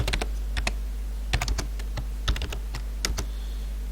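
Code is typed on a computer keyboard in quick irregular bursts of crisp, close keystroke clicks separated by short pauses, with no talking.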